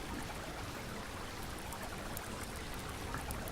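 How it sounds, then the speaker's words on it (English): River flowing near a base in the Subsistence survival game, a continuous broad rushing and trickling wash of water, steady and fairly loud throughout with no talk. "The river kind of takes everything over."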